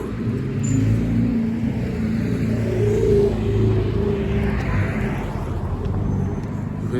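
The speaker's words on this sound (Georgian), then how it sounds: "ეს რა კაი მანქანა იყო" A passing car on a street rumbles steadily under a low engine drone throughout, close by and fairly loud, with no clear rise or fade of a single pass.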